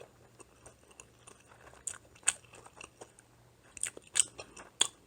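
Soy sauce marinated raw crab is eaten up close, with soft wet chewing broken by a few sharp crunches and cracks of shell in a quiet room.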